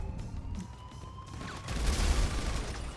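Military combat in a video game with heavy gunfire aimed at soldiers and a tank: rapid shots over a rumbling battle din, swelling into a louder, denser burst of blasts and crashes partway through.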